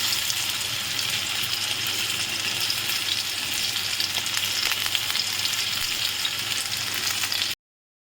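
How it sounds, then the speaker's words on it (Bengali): Raw banana pieces fry in hot oil with a steady, close sizzle that holds evenly and then cuts off abruptly near the end. "দেখো আমার সবগুলো ভাজা হয়ে গেছে"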